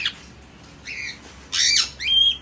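Indian ringneck parrots give several loud, harsh squawks in short bursts just before feeding, with brief gaps between calls and no talking.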